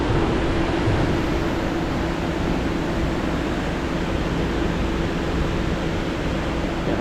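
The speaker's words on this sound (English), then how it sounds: "hopefully the mic is picking up the rushing water" Steady broadband roar of rushing Ottawa River water channeled over a drained lock area near a bridge, loud and continuous with no break, no talking.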